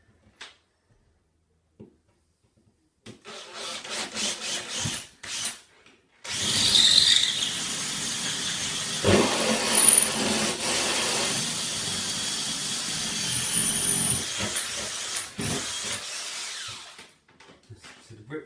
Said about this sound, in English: And then drill the next hole.